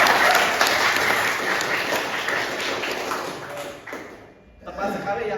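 Classroom applause for a student in a networking cable-making lesson: a burst of many hands clapping together, loud at first then tapering off into a brief lull before voices and a few scattered claps resume.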